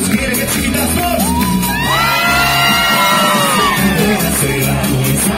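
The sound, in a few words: concert crowd screaming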